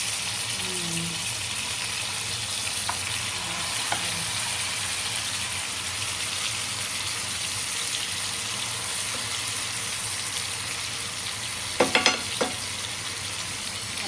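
Black fish frying in a pan, a steady close sizzle that runs the whole time with a few brief clatters near the end as the fish is handled.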